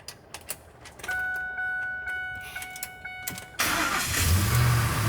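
A car engine cranks and catches once the foot is on the brake, a short starter whir giving way to a loud steady running engine, preceded by faint clicks and a chime tone; no talking.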